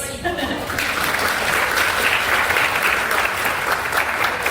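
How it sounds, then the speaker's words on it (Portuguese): Sustained applause from an audience at a women's event, dense clapping that runs for the whole stretch at a loud, even level, with no speech over it. "Palmas para vocês!"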